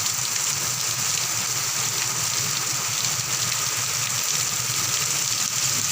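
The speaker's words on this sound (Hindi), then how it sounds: "बारिश हो रही है, बहुत ज़्यादा बारिश हो रही है।" Heavy rain pours down in a dense, constant hiss that fills the whole stretch without a break, close and loud, with no voices heard.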